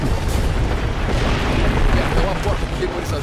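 Rumbling booms and bursts of heavy gunfire in Gears of War Ultimate Edition, a thick continuous barrage of explosive pops under a talking voice.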